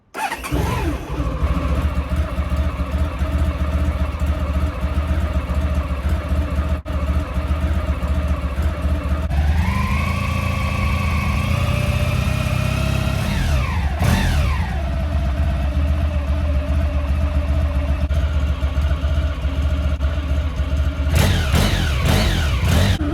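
A Honda ST1100 motorcycle engine idles steadily outdoors in a garden as it warms up, with a smooth continuous drone, one rise in revs midway, and a brief blip near the end.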